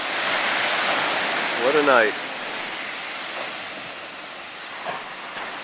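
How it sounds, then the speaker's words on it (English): Ocean waves surging against lava at a night-time ocean entry, a continuous broad roar of surf with a brief spoken exclamation near the start. "The lava keeps pumping out, the waves keep trying to put her out."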